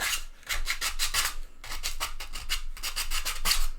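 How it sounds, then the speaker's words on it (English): A T-Rex head sculpture is hand-sanded in quick repeated back-and-forth strokes, a raspy scraping rhythm that pauses briefly midway before resuming, close and clear with no voices. "I'm getting to spend 2 hours effectively sanding a T-Rex head"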